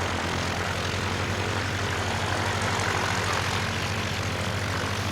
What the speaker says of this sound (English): I'm just looking to see if any of the other Edwardian aircraft are being throttled out.